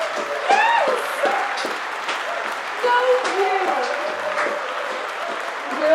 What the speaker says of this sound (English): Let's have a big round of applause, folks.